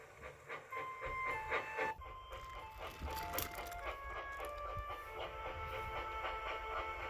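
A steam locomotive whistle sounds in sustained tonal blasts over the rumble and clatter of a train, moderately loud and close.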